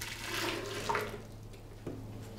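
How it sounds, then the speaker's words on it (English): Homemade nut milk flavored with lucuma powder is poured back into a container, a soft watery trickle and splash that swells briefly, fades, then ends with a small clunk, with no voices. "So what I'm gonna do is pour this back in here."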